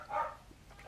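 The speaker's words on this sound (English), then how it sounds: "My dog barking there." A dog gives one short bark near the start, fairly faint and somewhat distant, followed by quiet room noise.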